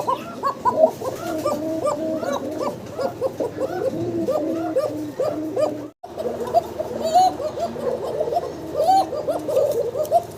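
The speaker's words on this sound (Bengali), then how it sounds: "আরও একটা ককার ডাক শুনতেছেন আপনারা" Male pigeons coo insistently in a loft beside hens, overlapping rhythmic throaty calls repeating close by, with a brief pause midway before the cooing resumes.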